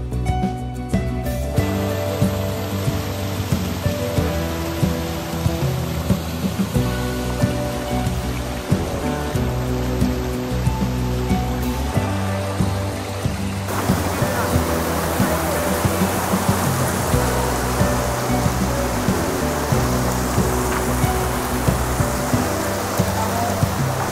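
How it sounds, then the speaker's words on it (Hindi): Bada Aapkhol waterfall in Bargarh, Odisha, gives a constant, dense roar of falling water at close range, broadband and unbroken for the whole stretch, with a faint steady tone running underneath. "आपको बड़ा अपफॉल का वाटरफॉल दिखाते हैं"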